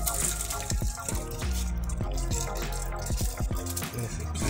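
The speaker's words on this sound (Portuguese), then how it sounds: "E não para de sair água, né?" Water pours without pause from an outlet in a home vegetable garden, a steady splashing flow close by with irregular drips and gurgles on top, heard alone without voices.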